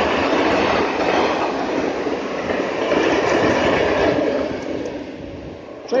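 A freight train rolls steadily past close by, with a loud continuous rumble and clatter of wagons that holds for several seconds before easing slightly near the end.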